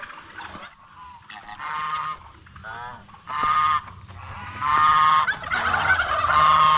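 Domestic turkeys and geese on a farm call and honk in overlapping bursts, with gobbling and harsh honks rising in loudness toward the end, close by and continuous without speech.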